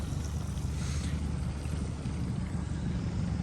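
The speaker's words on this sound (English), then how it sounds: "I'm just idle right now, waiting for the trailer to pull up" Pontoon boat engine idling on the water while waiting for a trailer, a steady low rumble with wind noise buffeting the microphone throughout, no speech.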